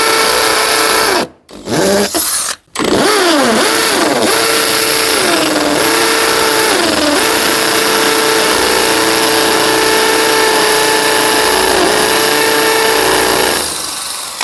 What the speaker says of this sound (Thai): การเจาะผนังปูนนั่นเองนะครับ ตัวนี้ผมใช้ดอกเบอร์หกนะครับ